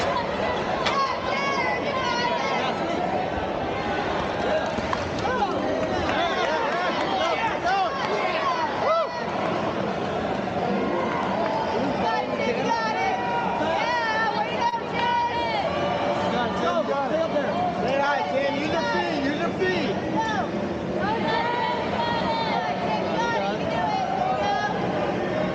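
Steady outdoor crowd chatter at a busy race event, a dense continuous babble of many voices at an even level, with no single voice standing out.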